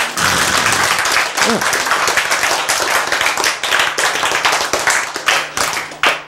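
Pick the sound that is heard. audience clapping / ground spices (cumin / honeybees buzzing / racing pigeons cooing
audience clapping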